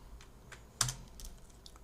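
Keys on a computer keyboard tap in a short, uneven burst, close and fairly quiet, with one sharper keystroke standing out midway against a soft low background hum.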